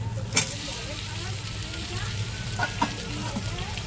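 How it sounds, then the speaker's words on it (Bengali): Fried pointed gourd and potato pieces go into sizzling masala, giving a loud, steady sizzle with a few sharp splashes and scrapes near the start and middle. "এখন ভেজে রাখা পটল আর আলুটা দিয়ে দেবো।"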